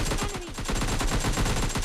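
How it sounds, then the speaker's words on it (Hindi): Rapid bursts of gunfire crackle loudly and continuously in a PUBG Mobile Lite match, overlapping shots forming a dense, near barrage with no talking. "और मुझे एक और फायरिंग की साउंड आती है।"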